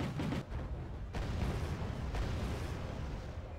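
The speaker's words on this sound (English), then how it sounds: "Mortars being dropped on the VDVs in a bit of damage." Mortar fire from LAV mortars in the strategy game Wargame: AirLand Battle, a continuous heavy rumble of overlapping booming impacts with several sharper blasts, loud and dense throughout.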